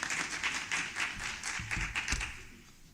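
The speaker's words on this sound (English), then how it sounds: "A round of applause, please, for Luke." Scattered audience clapping at the Africa Development Impact Forum as a speaker is welcomed, a few hands beating in a loose rhythm at moderate volume and fading out near the end.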